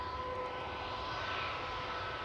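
Turkish Airlines Airbus A321neo jet, about four years old, lining up at the end of a runway at Manchester Airport, a steady loud engine roar with a broad hiss and faint tonal whine.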